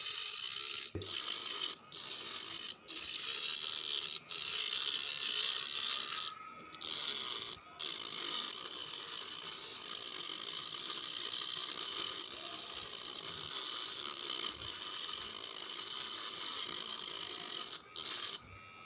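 A power tool shaping a small wooden mini cricket bat, giving a steady, loud grinding whine that runs almost unbroken, with a few brief dips and clicks along the way.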